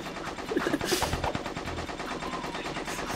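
Rapid turret gunfire rattles in Jak 2, a fast continuous stream of sharp shots over game sounds with a heavier burst near the start.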